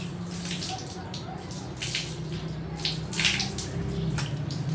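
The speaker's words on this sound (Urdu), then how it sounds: "اس کے بعد 3 دفعہ ناک میں پانی ڈالنا ہے" Water splashing and running from a tap while the nose is rinsed during ablution, soft uneven splashes and trickles over a steady faint flow, fairly close and quiet.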